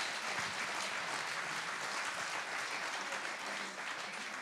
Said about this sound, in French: Mesdames et messieurs, applaudissements bien forts, histoire de chauffer la salle encore